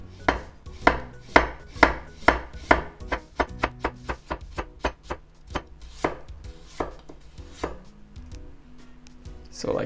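A knife cuts radish into very thin slices on a cutting board, a quick run of sharp, close taps that slows and thins out toward the end, with no one talking.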